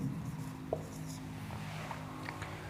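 Faint scratchy strokes of writing on a board during an English grammar lesson, short quiet scrapes and taps against a low background hum.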